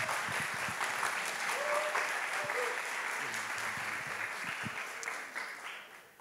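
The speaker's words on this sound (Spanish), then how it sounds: "Un aplauso para Samu, por favor." Audience at a year-end concert applauds for Samu, with steady, full clapping that holds throughout and tapers at the close, a few voices faint beneath it.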